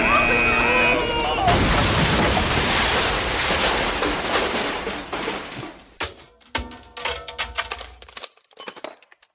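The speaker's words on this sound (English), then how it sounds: "It's going to explode!" A cartoonish robot explosion effect bursts in with a loud, dense blast and crash, followed by scattered clinks and rattling debris settling and tapering off, with talk heard before it.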